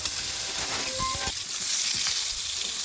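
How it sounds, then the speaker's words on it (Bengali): Potatoes fry in hot oil with salt and turmeric, a loud, continuous sizzle, crackling and spitting, and occasional stirring sounds. "এবার ওটাকে ভালো করে ভেজে নেব।"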